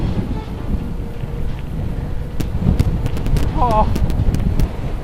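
Wind buffets the microphone outdoors during a hill descent at Glenlivet, a steady low rumbling roar that grows slightly stronger, with a person briefly speaking over it.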